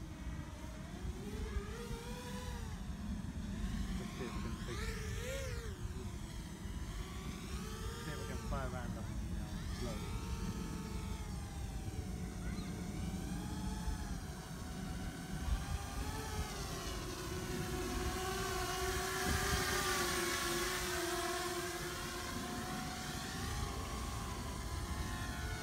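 An Eachine V-Tail 210 FPV racing drone on its first flight whines with rising and falling motor pitch as it maneuvers, heard continuously while people talk nearby.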